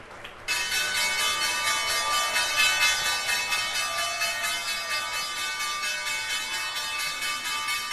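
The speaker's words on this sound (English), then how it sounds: "They'll ring the closing bell now." The New York Stock Exchange closing bell rings out on the trading floor, a loud, continuous rapid clanging that starts abruptly and keeps going without pause, with no speech.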